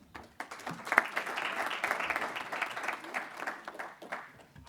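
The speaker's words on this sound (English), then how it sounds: "Please give a round of applause for Sara Allen." An audience at a panel discussion applauds a speaker being introduced, a moderate burst of clapping that swells quickly and then tapers off, heard from within the room.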